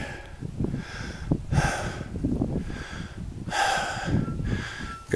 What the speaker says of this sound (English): Got my heart rate up. I'm breathing heavy.